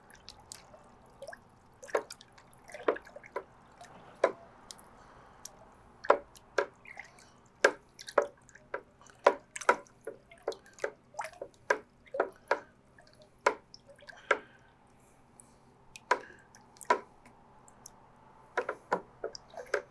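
Chlorine is stirred into a bucket of pool water, giving a series of soft, close drips and small splashy taps at irregular intervals over a quiet background. No voices are heard.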